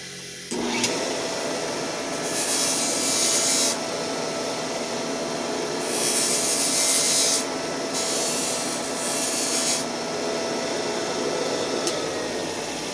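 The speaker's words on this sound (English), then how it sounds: "Now we'll smooth it up with the Miracle Wheel." English wheel rolling back and forth to smooth a metal inspection cover: a continuous low grinding rumble with repeated bursts of loud, bright hissing passes, close and without speech.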